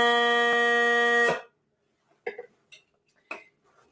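A single bagpipe drone reed blown on its own gives a steady buzzing, harmonic-rich tone for about a second and a half, then stops, followed by a few faint clicks and handling noises.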